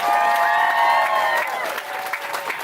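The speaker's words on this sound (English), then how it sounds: "Let's get a round of applause." Wedding guests clapping in a round of applause, a dense burst of many hands that is loud at first and then thins out over about a second and a half.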